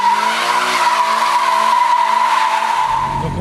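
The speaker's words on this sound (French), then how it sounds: "Donc on peut vraiment mais s'éclater tout en drift avec cette voiture" Toyota GT86 Blue Edition sliding sideways in a drift, tyres screeching loudly and continuously, a steady howling squeal over engine drone that ends with a rough scuff.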